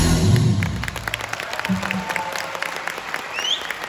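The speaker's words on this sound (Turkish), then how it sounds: "Alkışlar sizler için." Audience applause after a children's song, a steady wash of many hands clapping at moderate volume with a brief voice and a low tone early on, then continuing evenly to the end.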